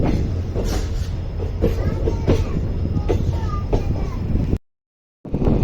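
The Rajya Rani Superfast passenger train rolls along close by on a sharp curve between Mysuru and Bengaluru, its wheels clattering rhythmically over the rails with a steady rumble before the sound cuts out abruptly.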